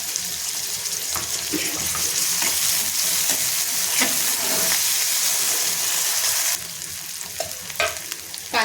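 Chopped tomato sizzles steadily in a pan of sautéed ridge gourd curry base while a spoon scrapes and stirs, with a brief clatter and a quieter final stretch.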